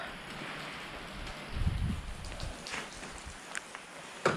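Rain pouring down steadily outdoors near a college during a cycle ride, a constant wash of drops with a few louder splashes and patters close by, no talk.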